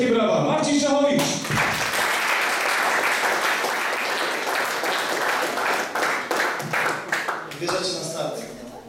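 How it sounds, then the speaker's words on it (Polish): An audience at a birthday gala gives loud, sustained applause for Marcin Szachowicz, a dense wash of clapping lasting several seconds, with a few cheers and voices near the start and end. "kolejny raz wielkie brawa, Marcin Szachowicz!"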